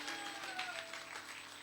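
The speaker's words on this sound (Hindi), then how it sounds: "ताली बजाकर धन्यवाद करें।" A church congregation at a revival service claps in thanks, a steady wash of applause from many hands held at moderate distance and fairly faint throughout.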